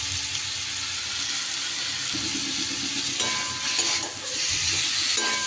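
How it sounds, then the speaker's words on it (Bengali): An orange-based recipe being stirred in a pan, a constant sizzle with soft scraping and shuffling of the spoon, a few brighter clinks near the end, close with no speech. "একটু সময় এইভাবে নাড়িয়ে চাড়িয়ে নিতে হবে"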